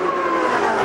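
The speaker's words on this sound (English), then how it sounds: "On the long back straightaway, Genelosi and the Johnson Controls only Jaguar." A Jaguar XKR race car in the 2001 Trans-Am Series at Houston roars down the long back straight, its engine note holding a steady high drone under a wash of broadband noise.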